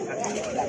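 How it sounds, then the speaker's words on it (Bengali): A pair of pigeons, a male and a female Giribaz of two different breeds, coo softly and continuously in a short close burst, with a faint background murmur. "এখানে কিন্তু দুই জাতের দুইটা কবুতর আছে"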